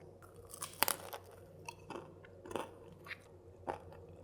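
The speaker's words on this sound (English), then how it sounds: "I bit into it and it's like biting into an egg roll" Crisp crunches from biting and chewing an air-fried frozen dumpling, several sharp close-up crackles spaced irregularly over a few seconds, quiet overall.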